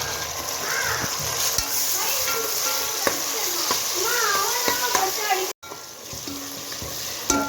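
Chopped tomatoes tipped into a pan of softened frying onions, a steady close sizzle and stirring running throughout with brief clatters, while people talk softly over it and a short dropout cuts in near the end.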